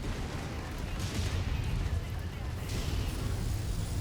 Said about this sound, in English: Firing all my weapons.